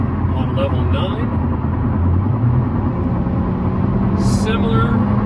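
A Hyundai Elantra N in race mode, fitted with a WindBooster 3S throttle controller, accelerates with a steady engine drone and road noise from inside the cabin while someone talks over it.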